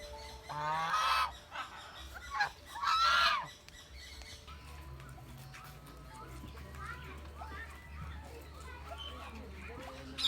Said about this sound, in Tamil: எந்த சைடு திரும்பினாலும் ஃபுல்லாக பறவைகள் தான்